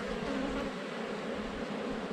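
Dense, steady buzzing of many honeybees close around a hive just after a swarm, a continuous unbroken drone with no voices.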